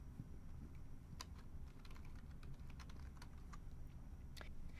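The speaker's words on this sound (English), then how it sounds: "type in the first name and the last name of the contact" A contact's first and last name typed on a computer keyboard during a security web portal setup, a quiet run of irregular key clicks over low room hum, close to the microphone, no talk.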